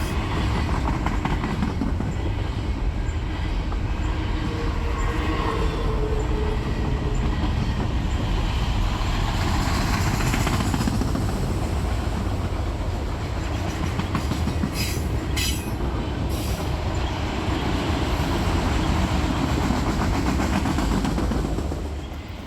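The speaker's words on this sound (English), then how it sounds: "Our first train of the week was 16R." Norfolk Southern manifest freight train 16R, with trash containers and auto racks, rolls steadily past at close range, a continuous loud rumble of wheels and rail cars with clickety-clack and brief wheel squeals near the end.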